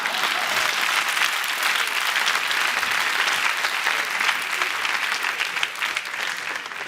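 Audience applauding at a comedy show in a mock African parliament setting, dense, steady clapping from a large crowd filling the whole stretch, loud and sustained, with no talk over it.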